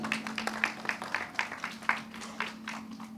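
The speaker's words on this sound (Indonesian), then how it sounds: "tepuk tangan dulu buat Mas Ian" Light, faint scattered clapping from a small audience welcoming a guest, uneven and quiet throughout, with a steady low hum underneath.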